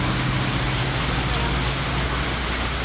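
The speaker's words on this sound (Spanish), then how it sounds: "se vino de repente el agua así de llover duro" Heavy rain pours down steadily during a sudden storm in Usulután, El Salvador, a dense continuous hiss filling the scene with a low rumble beneath, and faint voices mixed in.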